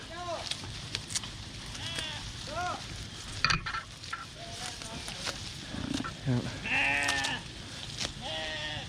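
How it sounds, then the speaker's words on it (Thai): Sheep crowd around feed at a farm attraction, Suan Lamai in Rayong, bleating repeatedly in wavering calls, some near and some farther off, over a busy background of people and movement. "อุ้ยแกะมาเต็มเลยอ่ะ"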